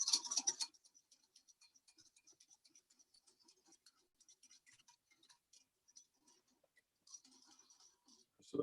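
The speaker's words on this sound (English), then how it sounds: "whisk all that together. You don't want any lumps" A whisk beats coconut milk thickener mixture in a bowl, a soft rapid ticking and scraping rhythm, faint and close, with a louder clatter at the start.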